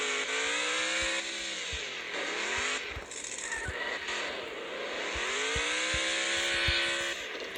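A crawler vehicle's engine in the Offroad Outlaws video game whines and revs as it drives around a yard, pitch rising and falling through gear changes, with occasional thumps and clicks underneath.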